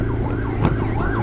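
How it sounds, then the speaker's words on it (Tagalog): An ambulance siren wails near the finish of a stage in a road bike race, loud and continuous over rumbling traffic and crowd noise. "Sumalubong ko kami ng ambulansya."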